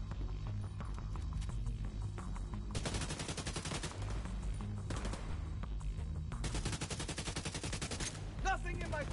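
Covering gunfire in a video game: bursts of rapid automatic fire in two long stretches over a steady low hum and throbbing game noise, loud and close.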